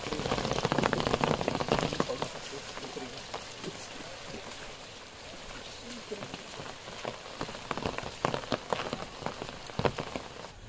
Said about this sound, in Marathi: ते ॲक्च्युली पाऊस पडतोय ना